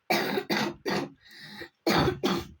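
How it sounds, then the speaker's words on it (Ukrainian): A sick person coughs hoarsely and harshly in quick bursts, with a brief pause of softer breathy noise before two more loud coughs close by. "Вибачте, друзі, що я кашлю, я просто хворію."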